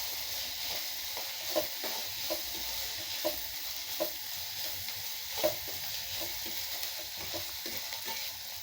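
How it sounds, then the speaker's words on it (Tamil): Aval upma, flattened rice with curry leaves and salt, is sautéed in a pan, with a quiet, even sizzle and a steady rhythm of soft spatula scrapes close by. "நல்லா இப்படி வதக்கி விடணுங்க"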